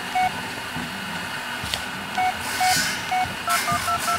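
Phone dialing tones from the Blair Witch video game: a sequence of short electronic beeps at irregular spacing, some paired, heard over a low steady background hum, with no voices.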